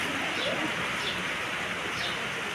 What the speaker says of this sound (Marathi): बघ किती जोरात आला बघ पाऊस.